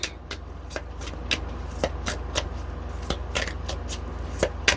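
Tarot cards are shuffled by hand in quick, crisp riffles and snaps, a string of short papery bursts close by with no talking.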